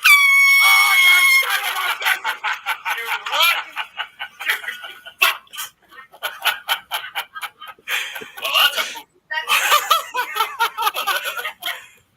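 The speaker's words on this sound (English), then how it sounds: "hooked an air horn up to the bottom of the seat the other day" A loud air horn rigged beneath a seat blasts for just over a second, followed by bursts of laughter and shrieking from several people.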